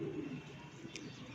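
Breeder pigeons coo faintly in a low, soft burble at a distance, with a brief chirp partway through against quiet background hum.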